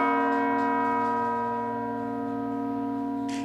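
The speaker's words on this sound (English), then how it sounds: "the church's bells tolled 88 times to mark the 88 years of the Pope's life" A church bell at the Basilica of the National Shrine in Washington tolls once, a deep, ringing strike whose rich overtones hang and slowly fade.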